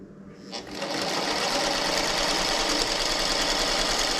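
A sewing machine starts up and runs continuously, stitching fabric for a first quilting project with a fast, steady mechanical whir and rapid needle clatter close by, after a brief quiet start.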